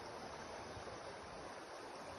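A river flowing past a village bank in Baringin on a morning, a soft, continuous wash of water that holds steady and faint in the distance.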